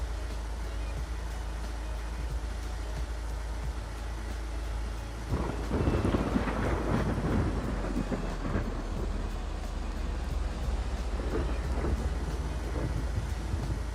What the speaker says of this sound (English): Prepare your ears for lightning strikes if we end up getting struck by lightning, because they are so much louder than in Modern Twisted.